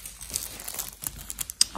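A plastic packaging bag crinkles and rustles up close while an ordered linen pillowcase is unpacked, a quick run of crisp irregular crackles with no talking.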